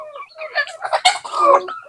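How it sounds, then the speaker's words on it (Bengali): Adult native hens cluck close by, a quick run of short, throaty calls over about two seconds, fairly loud and without talk. "এই যে আমার বড় মুরগিগুলা দেখেন"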